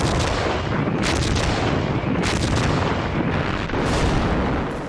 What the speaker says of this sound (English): Rommel's artillery took a terrible toll